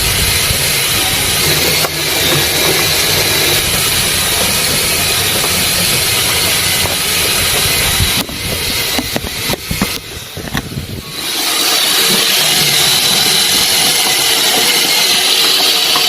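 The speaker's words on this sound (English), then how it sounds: "Let's first turn on the motor." The motor of a homemade washing machine runs with a steady loud hum and hiss, broken midway by a few seconds of rattling bumps before the even drone resumes; no one speaks.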